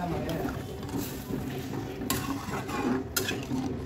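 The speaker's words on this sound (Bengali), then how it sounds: "জল দিয়ে একটু নেড়ে দেবো" A spoon scrapes and stirs fish curry in a pan just after water is added, giving a steady, close rattling and clinking with a few sharper knocks against the metal.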